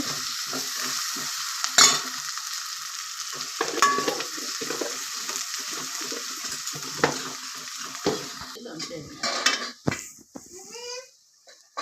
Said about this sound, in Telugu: అల్లం పేస్ట్ మంచిగా అయినాక అందులో కొంచెం పసుపు